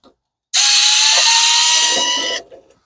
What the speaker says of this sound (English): The drill seems loud, though.